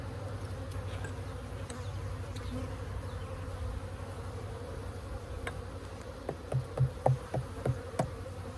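Honey bees buzzing during a hive inspection in a Holts Summit bee yard, a steady close hum with several louder individual bees zipping past near the end.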